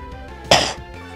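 A single short, harsh cough bursts out close by, with quiet background hum before and after.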